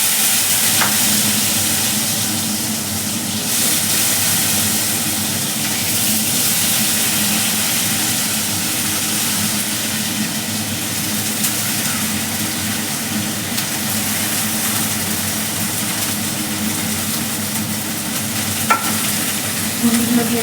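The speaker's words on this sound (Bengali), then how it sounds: "ভেন্ডিগুলো দিয়ে দিলাম।" Okra pieces frying in hot oil in a kadai, a loud, continuous sizzle with steady stirring and scraping running throughout, close and without talk.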